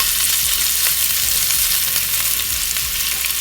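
Cuban-style pork meatballs searing in a pan, a loud steady sizzle and crackle of frying with occasional stirring scrapes, close and continuous.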